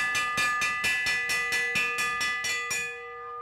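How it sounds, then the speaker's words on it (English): A bell rings for the last lap at a race, struck about ten times in an even, quick rhythm before its tone decays, clear and alone. "Here comes the bell."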